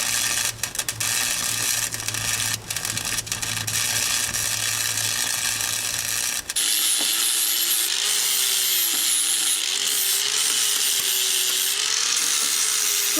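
A metal axle tower on a Ford Maverick being cut: a steady, harsh cutting drone that fills the first half, then gives way to a thinner, high, wavering whine, close up and with no voices.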